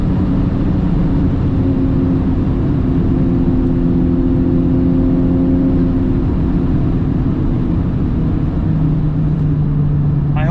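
A Honda Civic Type R FK8 engine runs continuously at high RPM, a loud steady drone with slight pitch shifts as it moves through the gears at speed, with no clear talk over it.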